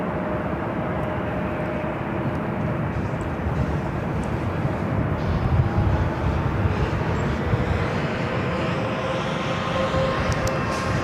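A Delta Connection SkyWest Embraer E175 jet at LAX airport produces a loud, steady engine roar with low rumble, continuous and fairly close, blended with general airport noise.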